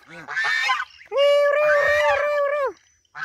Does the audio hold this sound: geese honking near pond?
yes